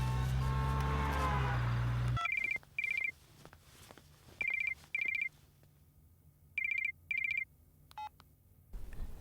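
A phone rings in short paired electronic tones, repeating several times at a steady rhythm after a burst of music.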